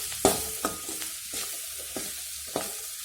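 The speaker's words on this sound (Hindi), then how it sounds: "अब इसको अच्छे से हम फ्राई कर लेंगे" Green chilies fry in hot oil, stirred with a utensil in a pan, giving sharp scraping strokes and bursts of sizzle at an uneven rhythm, close and clear with no talking.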